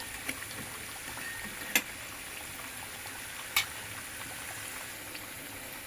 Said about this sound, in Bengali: আমার ভাজা শেষ, এখন আমি এগুলো তুলে নিচ্ছি।